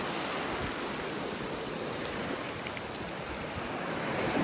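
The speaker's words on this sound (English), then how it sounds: "This wave action seems to be stirring up all the shells." Ocean waves washing over a shell-strewn beach at low tide in North Naples, Florida, making a steady, close, broadband wash with wind rumble on the microphone, continuous throughout without speech.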